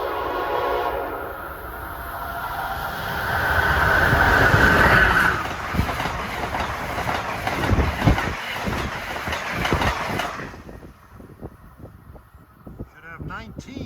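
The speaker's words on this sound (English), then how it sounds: "here comes 93, Boston to Norfolk at 4:50" Amtrak train 93, running from Boston to Norfolk, rushes past with a loud, swelling roar and a long horn blast near the start. Rhythmic wheel clatter follows as the cars go by, and the sound fades quickly to quiet at the end.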